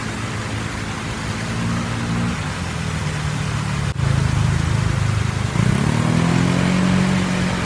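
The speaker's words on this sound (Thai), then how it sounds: "เสียงรถมอเตอร์ไซค์" A motorcycle engine hums steadily near a quiet lakeside playground as streetlights come on, its pitch shifting and rising toward the end as it passes, with no voices.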